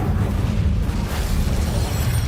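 Incendio fire spell cast in Hogwarts Legacy, a sustained roaring burst of flame that stays loud and dense throughout, with no talk over it.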